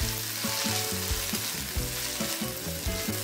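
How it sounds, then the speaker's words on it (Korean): Onion, cabbage and garlic stir-frying in hot oil for a Chinese-style seafood pasta, a loud, steady sizzle broken by repeated stirring scrapes, close up with no talking. "양파, 그다음에 양배추 여기까지 넣고 잠시 또 볶아줍니다"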